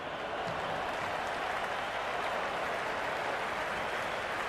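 Crowd applause in the cricket video game Cricket 26 during a Lahore Qalandars versus Islamabad United match, a dense, even wash of clapping that carries on steadily, faint and distant.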